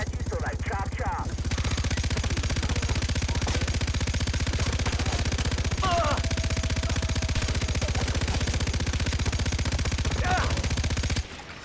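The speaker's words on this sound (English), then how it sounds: "This gun has a lot of bullets." Sustained automatic gunfire in the shooter game Far Cry 4 rattles on for about eleven seconds in a fast, even rhythm, loud and close, with a few faint extra sounds over it before it cuts off abruptly.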